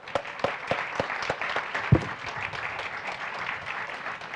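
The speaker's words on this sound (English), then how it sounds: "Please give yourself another round of applause." An audience at a hunger-relief recognition ceremony applauds, with sharp separate claps at first that blend into a steadier round of clapping, moderately loud and close.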